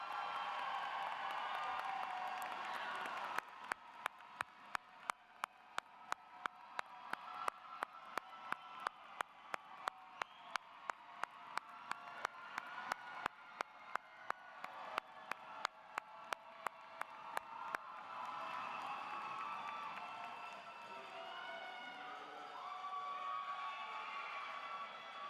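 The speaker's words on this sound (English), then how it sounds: "Big round of applause." A graduation audience at a San Jose State University Black commencement celebration breaks into dense, sustained applause. Sharp individual claps stand out in the crowd wash, and the clapping fades into a murmuring room after about fifteen seconds.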